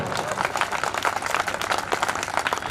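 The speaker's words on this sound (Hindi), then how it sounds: "मैं चाहता हूं कि आप इतनी तालियों की गड़गड़ाहट से इनका सम्मान करें" An audience at a youth career conference applauds in a dense, continuous burst of clapping that stays fairly even throughout.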